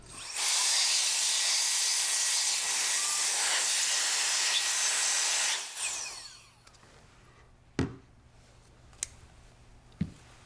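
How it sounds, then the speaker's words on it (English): Compressed air blasts into the action of a Benelli M2 semi-automatic shotgun to clear out debris, a loud steady hiss lasting several seconds before cutting off, followed by a few short sharp clicks and knocks in a quiet room. "If there is any kind of debris inside the action, this tends to be where it can settle. So compressed air will remove it."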